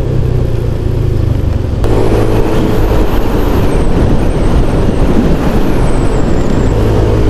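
Road traffic on a flyover on the way from Antipolo to Mandaluyong, with cars and motorcycles passing close by in a steady loud engine rumble and occasional revving, no voices.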